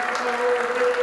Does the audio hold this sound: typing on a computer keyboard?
no